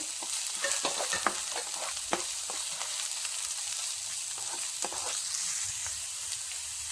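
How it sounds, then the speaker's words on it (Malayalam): Chopped carrot sautés in a pan with a steady hiss of frying, broken by scattered scraping clicks from a spoon stirring it, close and continuous with no talk. "ഇതിലേക്ക് ഇനി ഒരു കഷ്ണം ക്യാരറ്റ് അരിഞ്ഞത് ചേർത്ത് കൊടുക്കാം"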